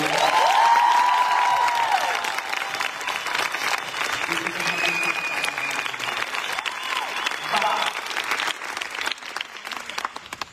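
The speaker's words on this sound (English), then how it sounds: "So big applause to you." Audience applause at a fan meeting in Barcelona, a steady wash of clapping from a large crowd lasting the whole stretch, with scattered voices and cheers mixed in.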